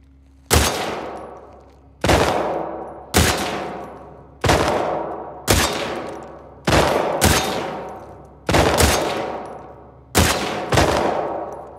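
Gunfire in The Last of Us Part II: about ten evenly spaced loud single shots, each a sharp crack with a ringing decay, alone without talk.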